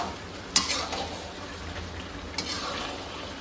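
Mutton kosha stirred and frying in a pan: a quiet, steady sizzle with two sharp scrapes of the spoon against the pan, close by, no talk.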